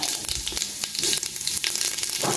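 Cumin seeds sizzling and crackling in hot oil in a pan while cooking tandoori chicken, a close, bright, continuous fizz with quick popping crackles throughout.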